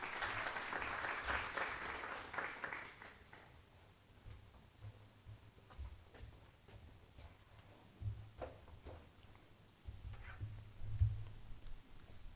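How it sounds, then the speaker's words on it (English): An audience at an Islamic psychology conference claps in a brief burst that fades within a few seconds, after which the room is left with scattered rustling and soft handling noises. "Round of applause, please."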